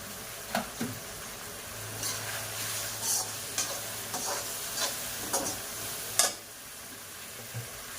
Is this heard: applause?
no